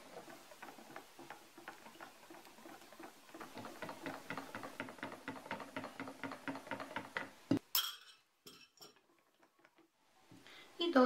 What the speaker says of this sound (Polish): teraz cieniutkim strumyczkiem będę dolewać ją do naszego kremu